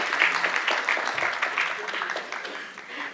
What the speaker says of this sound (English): Can we clap for the C.Arb Kenya branch?